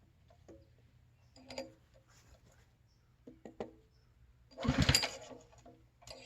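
A brand-new Simpson ALH3228-S pressure washer engine, filled with ethanol-free gas, is pull-started by hand: a few soft recoil pulls with faint rattles, then one strong, louder pull that sputters briefly before going quiet.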